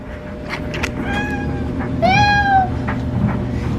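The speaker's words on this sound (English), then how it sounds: "Kitty cat number 1." A cat meows a few times, with one longer, rising meow standing out over steady background hum from a running appliance.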